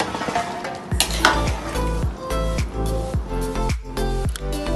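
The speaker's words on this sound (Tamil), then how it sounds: "ஊற்றிட்டு ஒரு தடவை நல்லா கிளறிக்கோங்க." Biryani rice in a pot stirred after lemon juice is poured in, with repeated metallic scraping and clanking of a spoon against the vessel in a steady rhythm, loud and close, and no talking.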